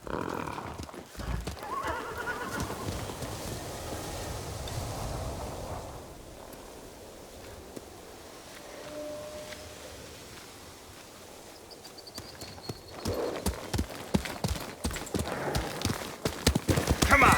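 Horses in the video game Ghost of Tsushima set off on a ride: a loud whinny and snorting open, then rapid clip-clopping hooves on the ground, with game voices speaking at points.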